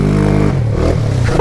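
Honda four-wheeler engine revving loudly at close range while straining to pull a dock out at a pond, a steady harmonic drone that drops in pitch midway and keeps laboring throughout.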